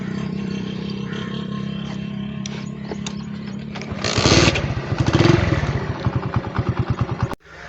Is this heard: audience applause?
no